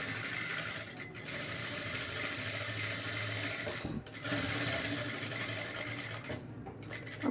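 A sewing machine stitches a blouse neckline with a steady, close mechanical whirr and fast rhythmic needle clatter, dipping briefly at a couple of pauses before running on.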